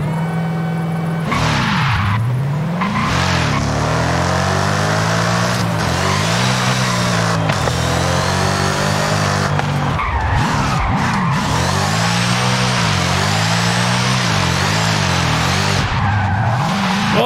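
A car in Forza Horizon 5 revs hard with rising and falling engine pitch while its tyres skid and squeal almost continuously, loud and close throughout.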